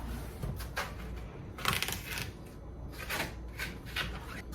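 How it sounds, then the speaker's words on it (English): A knife cutting a watermelon into chunks on a cutting board, a quick series of crisp slicing crunches and taps in irregular bursts, close and fairly quiet. "Just cutting chunks of watermelon."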